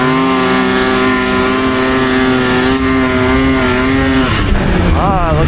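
A snowmobile engine holds a loud, steady high-rpm drone while riding through deep snow on a mountain pass, then the pitch wavers and shifts near the end.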